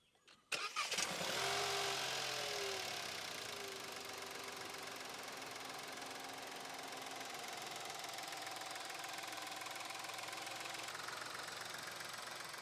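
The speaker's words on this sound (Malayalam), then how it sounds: "ഈ ഒരു 1 ലിറ്റർ TCE എഞ്ചിൻ നമുക്കൊന്ന് സ്റ്റാർട്ട് ചെയ്ത് നോക്കാം" A Renault Duster's 1.0 litre TCe three-cylinder engine cranks and catches with a brief starter whirr, then settles into a steady, close idle that runs continuously with no talk.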